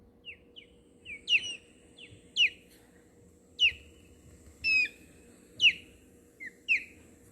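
An osprey gives a series of about a dozen short, high, squeaky chirps, some doubled, spaced irregularly and sounding clear and close over faint background hiss.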